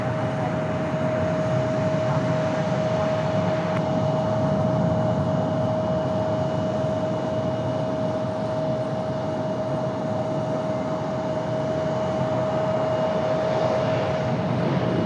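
An airliner takes off from runway 23 right at Raleigh-Durham International Airport, its jet engines producing a steady, loud, broad roar that holds unbroken throughout, with a faint constant whine beneath.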